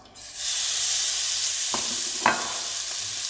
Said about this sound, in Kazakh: Қызып тұрған табаға етімізді саламыз.